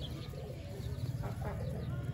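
Pigeons in a cage give soft, low cooing calls that run steadily through the short stretch, with a few faint chirps above, fairly close and moderate in level, with no talking.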